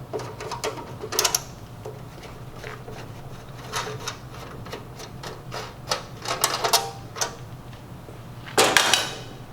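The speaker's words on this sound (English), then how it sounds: "remove the 5 Phillips screws on the bottom cover and remove the cover" Phillips screws are removed from the bottom cover of a Star two-sided commercial grill, with scattered small metallic clicks, ratcheting and clinks up close, ending in a brief louder clatter as the cover comes off.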